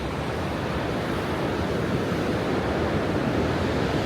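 Rough sea waves at Spekes Mill mouth on the North Devon coast, a loud, continuous roar of surf with wind rumbling across the microphone and no talk.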